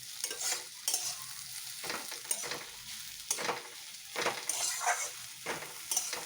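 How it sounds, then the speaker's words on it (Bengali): Potatoes fry in a pan while a spatula stirs them in repeated scraping strokes, over a faint steady sizzle, with no voices present. "বসিয়েছি আলু ভাজা"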